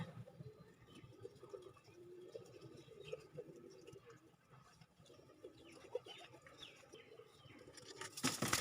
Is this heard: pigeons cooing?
yes